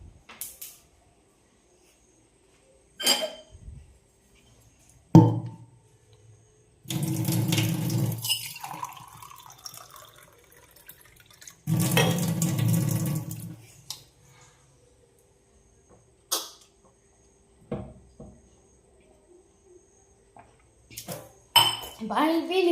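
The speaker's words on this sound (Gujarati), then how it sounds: "આપણે જરા પાણી પી લઈ।" Water runs from a tap into vessels in two loud splashing bursts, with clinking pots and scattered knocks between quiet stretches while someone drinks and talks.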